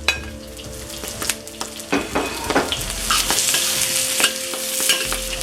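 Vegetable stems are stir-fried in a pan, with loud, busy sizzling and repeated scraping and clacking of a spatula in an irregular rhythm, close by and with no talking.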